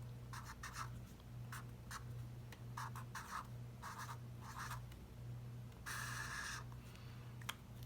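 A pen scratches numbers onto paper in short bursts of strokes separated by pauses, quiet and close, ending in a longer continuous stretch of writing; no voices.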